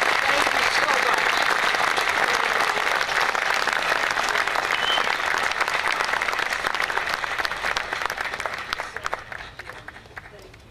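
An audience at a community lake event gives a big round of applause, a full, continuous clapping that starts loud and gradually thins and fades over about ten seconds.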